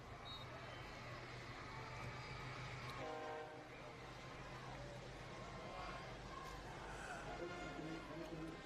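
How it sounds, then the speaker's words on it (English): A train rolls past near a high school football stadium during a night game, a distant rumble with horn blasts heard under crowd noise and a public-address voice. "here's the train again, folks. I told you that thing was going to come all night."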